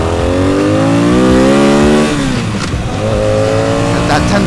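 A motorcycle engine, close and loud, revs hard toward 10,000 RPM in a rising whine, drops back briefly, then climbs again.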